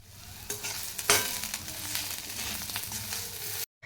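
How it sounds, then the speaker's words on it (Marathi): Onion frying until reddish in a pan sizzles steadily, broken by repeated spoon scrapes and stirring knocks, one sharper clatter standing out, before a sudden cut to silence near the end. "कांदा आहे ना आपण आता लालसर असा भाजून घ्यायचा आहे"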